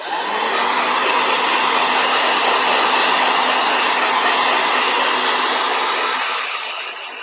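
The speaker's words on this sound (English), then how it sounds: "Hi, blow dryer!" A hair dryer blows loudly and steadily for about seven seconds, a constant broadband whoosh with a faint motor hum, tapering slightly at the very end, with no talking over it.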